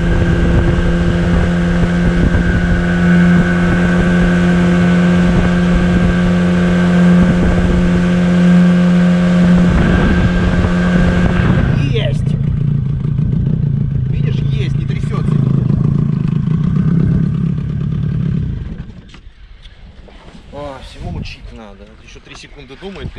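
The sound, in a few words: fishing boat motor running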